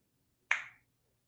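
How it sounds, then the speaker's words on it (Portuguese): One crisp finger snap rings out close and clear against near silence, fading quickly. "A gente pode usar estalos de dedos"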